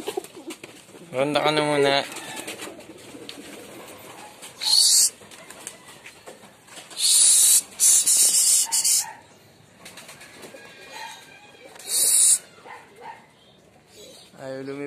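Pigeons at their coop: loud bursts of flapping wings come in several short flurries, with soft cooing between them and someone speaking close by.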